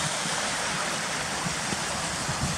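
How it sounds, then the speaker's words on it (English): A forest stream tumbles over a few stones in white-water rapids in Kidland Forest, a steady broadband rush of flowing water that fills the whole clip, close and continuous. "There's a few stones that's going over down there and a few more down there, creating white water rapids."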